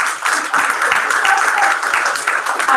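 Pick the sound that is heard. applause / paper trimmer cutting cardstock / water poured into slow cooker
applause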